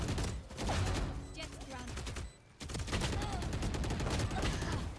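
Gunfire from a Valorant match: dense bursts of rapid shots and rattling automatic fire filling most of the stretch, broken by a brief lull midway, with some game noise underneath.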